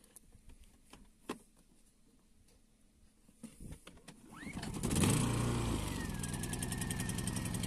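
Predator EU 2000 inverter generator starting up after quiet shuffling, its small engine catching and settling into a steady, fairly loud running drone close by.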